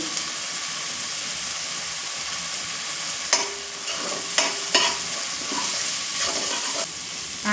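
Tender curry leaves stir-fried in hot oil for chicken fried rice, a steady close sizzle with sharp spoon scrapes and taps against the pan, no voice over it.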